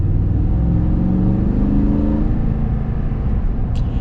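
Engine of a 2020 Toyota Tundra Limited pickup truck accelerating, a loud steady low rumble that rises in pitch as it revs up, heard close and without talk.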